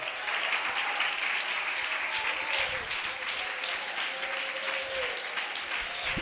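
A church congregation at a fasting prayer service claps together, a sustained, fairly distant wash of many hands heard steadily for several seconds with no talk over it.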